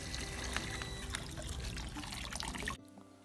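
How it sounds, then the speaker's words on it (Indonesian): Water pours out of a bucket during a water filter backwash, a steady splashing gush that runs for nearly three seconds, then cuts off abruptly into quiet, heard fairly close and alone. "Kemudian airnya saya buang."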